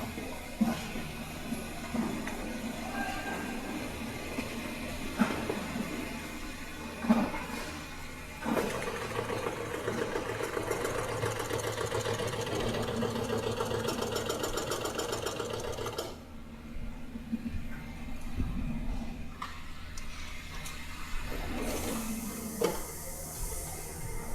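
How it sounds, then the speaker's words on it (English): An industrial sewing machine in a cricket ball factory in Meerut, India, doing the outer stitching on a ball. It makes a continuous rapid mechanical whir and rattle that briefly drops and picks up again, with hiss and workshop noise around it. "he does the outer the outer stitching. outer stitching on the machine"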